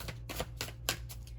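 A deck of tarot cards is shuffled up close in a quiet room, giving a rapid series of crisp riffling snaps and flutters with no talking.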